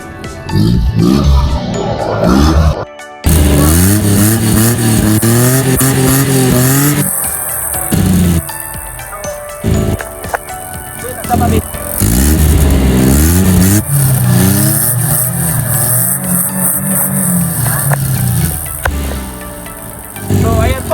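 A Suzuki Scrum 4WD mini truck's 12-valve engine idles and revs repeatedly, rising and falling in pitch, loud and close throughout with a few brief breaks.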